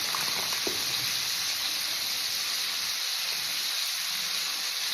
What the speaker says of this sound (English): The more of this meat I add, the less sizzle